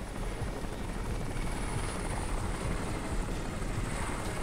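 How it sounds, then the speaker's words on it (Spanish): A helicopter's rotor in the video game Crysis chops steadily in a constant, dense whirring drone, moderately loud and unbroken throughout. "el helicóptero"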